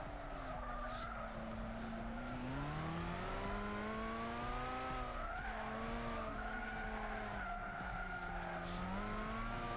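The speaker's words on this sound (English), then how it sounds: "gonna brake here because I don't wanna mess it up" Race car in Gran Turismo 6 on PlayStation 3 braking hard, engine pitch sweeping down and up in steady harmonic bands over a continuous tire squeal and skid, loud and unbroken through the run.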